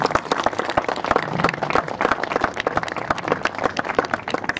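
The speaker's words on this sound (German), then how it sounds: "ich würde wirklich darum bitten, dass man vielleicht kurz einen Applaus für die Leute, die das hier alles organisieren, machen" Applause rises for the organizers of a Dresden vigil: dense, steady clapping from an outdoor crowd, sustained evenly for several seconds without speech.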